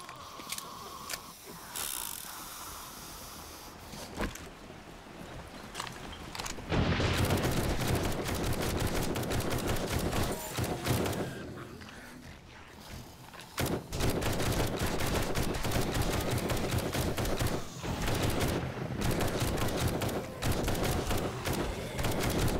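Rapid gunfire in the zombie survival game 7 Days to Die, with bursts of repeated shots and mechanical clicks that grow into dense, loud volleys punctuated by brief pauses.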